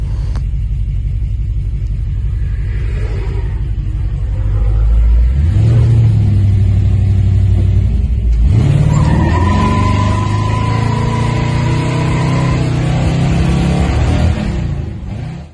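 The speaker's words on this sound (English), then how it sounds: "I decided to take the Star Chief on a little cruise, 30 minutes one way, and it done remarkably well" A 1963 Pontiac Star Chief with a swapped-in Turbo 400 transmission cruising on the road, its engine rumbling steadily and rising as it accelerates, with tire and road noise throughout and no voices.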